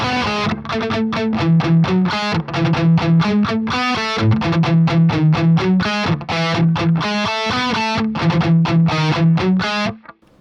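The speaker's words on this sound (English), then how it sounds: "Very, very reminiscent of early kind of 5150 tones. Very crunchy." Crunchy, distorted electric guitar through an AmpKnob amp simulator, pedal set for a crunch reminiscent of early 5150 tones, playing a loud, steady run of rhythmic chugging chords with no talking.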